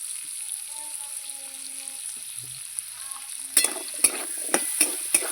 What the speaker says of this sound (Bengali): এবার পেঁয়াজ আর আলু ভালো করে আমি ভাজবো একটু লবণ দিয়ে দেবো